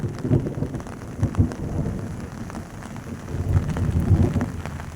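Heavy monsoon rain pours steadily outdoors over fields and rooftops, with low rumbles of thunder rolling through the downpour at intervals, no voices, moderately loud and continuous.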